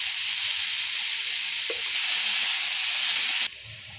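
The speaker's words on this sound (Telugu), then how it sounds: "4 to 5 టమాటాలు ఇలా కట్ చేసుకున్నవి నూనెలో మగ్గించాలి" Four to five chopped tomatoes with a little salt frying in hot oil, a loud continuous close-up sizzle that drops suddenly to a softer hiss near the end.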